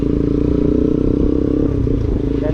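An underbone motorcycle, a Raider Fi, runs steadily close by, its engine a loud, even drone with some clattering throughout.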